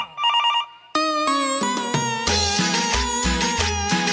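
A telephone ringtone sounds alone, opening with a short electronic chime, then launching into a loud melodic ringtone tune with bright repeated notes and a thumping beat.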